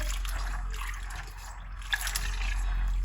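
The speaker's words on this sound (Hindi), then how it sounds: "अब इसको 2-3 पानी से आप धो लें।" Soaked chana dal being rinsed and rubbed by hand in water, with soft sloshing and trickling close by and no speech.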